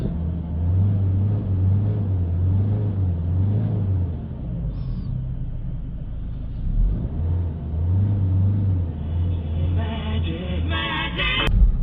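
A Peugeot 3008 2.0 HDi diesel with an air mixer position fault drives on a road test, its engine holding a steady low rumble with a couple of gentle rises in pitch and a faint ticking near the end.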